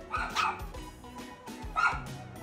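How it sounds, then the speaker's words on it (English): A rowdy dog barks in two sharp bursts of yips and barks, close and loud, with a brief pause between them and no talking over it. "Apologies for the dog."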